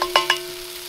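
Onions and celery sizzle in a cast iron Dutch oven over an open fire in a snowstorm, with two quick stirring scrapes over a soft sizzle and a steady hum.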